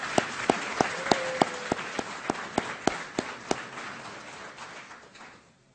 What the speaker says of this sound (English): would you please give a round of applause to the staff of the Henry?